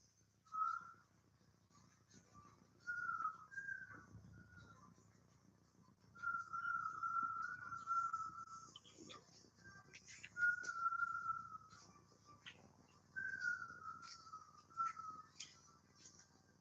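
A person whistles a slow, wandering tune in separate phrases, fairly quiet and alone, with pauses between them.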